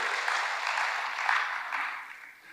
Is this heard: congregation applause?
yes